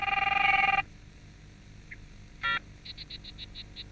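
A telephone trills with a short electronic ring, then a single brief tone after a pause and a quick series of repeated beeps, all fairly faint over a quiet background.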